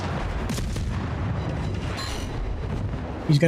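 Warship main guns firing in World of Warships: a continuous rumble of heavy booms and rolling blasts, ending in a louder crack.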